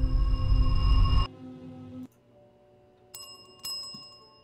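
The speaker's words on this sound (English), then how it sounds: "You can ring this bell up to 3 times, but then he's like, stop that." A bell is rung in a video game, sounding a few clear metallic rings with pauses between them after a louder stretch of game music, with no talking.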